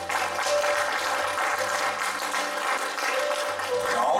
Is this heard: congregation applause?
yes